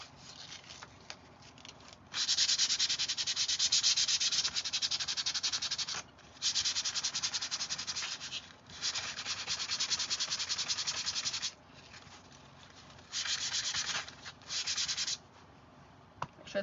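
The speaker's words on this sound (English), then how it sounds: "we're going to sand it down just a little bit." Sandpaper rubs across a painted wooden anchor sign in several long, steady bursts of close scratchy friction, separated by short pauses.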